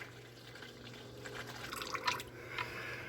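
Used engine oil drains from a 2024 Toyota Tundra during an oil change, a soft trickling and dripping stream with a few louder splashes near the end, over a low steady hum.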